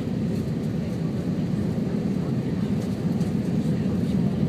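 Frontier Airlines passenger jet landing at San Diego, heard as a steady, loud low roar of engine and airflow noise filling the cabin without letup.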